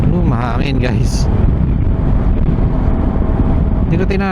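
Riding a Zontes 400G motorcycle on an expressway, wind buffets the microphone in a loud, steady rush mixed with engine drone, while a rider talks briefly at the start and end.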